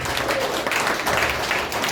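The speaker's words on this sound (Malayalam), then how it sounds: "കൈയടിച്ച് പാസ്." An audience claps together in a hall during a talk, a steady spatter of applause that carries on for the whole stretch at moderate loudness.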